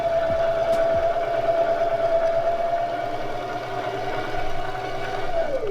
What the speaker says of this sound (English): we're just going to push our presser foot, and it will wind